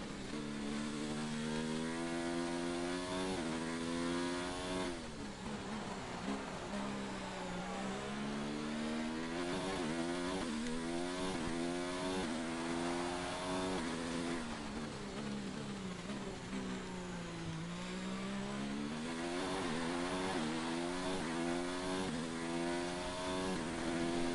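A Formula 1 car engine in the F1 2019 video game at Bahrain screams on an outlap, a loud, continuous high-revving whine rising and falling through repeated gear changes, alone without talk.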